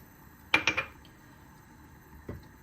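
A metal pilaf pot being lifted out of a dishwasher in a home kitchen gives three quick clanks in a row, then a single softer knock a moment later, against a quiet room.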